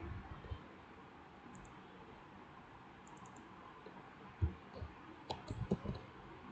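A few soft keyboard clicks, including the Enter key, are pressed while working in an Excel spreadsheet. They sound as faint, isolated taps near the end over a quiet room hiss.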